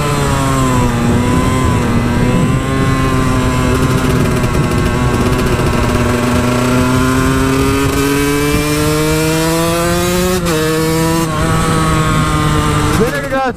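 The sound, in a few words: car passing by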